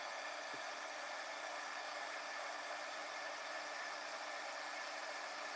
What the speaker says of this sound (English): cover this up before I heat emboss, because otherwise it'll go flying everywhere